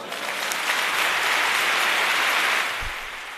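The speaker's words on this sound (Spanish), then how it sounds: "Otra gran ovación." Sustained applause from a large audience at the Seville Holy Week proclamation, dense and steady for about three seconds before tapering off, with no voices.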